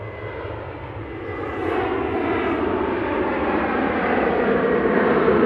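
A Ryanair jet airliner at Manchester Airport rumbles with a continuous engine roar that swells noticeably partway through and keeps building, loud and close with no talk.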